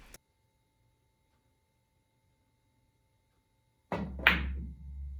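A pool break shot during a 70-ball straight pool run: one sharp crack of the cue ball into the rack followed by a brief clatter of scattering balls, close and fairly loud after a quiet pause.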